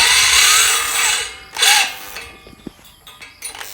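A power drill bores holes to mount a three-cylinder chemical sprayer pump, giving a loud whirring burst that dies away, a second short whine, then several small clicks and knocks from the tool, close by.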